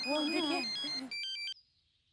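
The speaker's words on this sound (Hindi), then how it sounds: "आया फोन आया।" A voice talks over a bright electronic phone ringtone, which then chimes alone in a quick trilling burst before cutting off.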